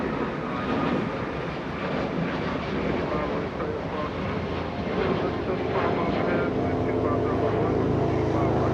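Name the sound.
Delta Airbus A321 airliner at Los Angeles International Airport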